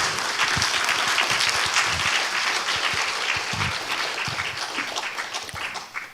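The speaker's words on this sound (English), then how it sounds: "let us show our appreciation with resounding round of applause for choreographer Myung-Joon" Audience applause at a meditation forum's opening ceremony, a dense, steady roar of many hands clapping that holds loud throughout and eases slightly toward the end.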